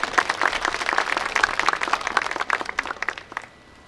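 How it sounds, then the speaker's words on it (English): An audience at a Veterans Day celebration applauds with a burst of moderately loud clapping that thins out and fades after about three seconds. "Give her a nice round of applause,"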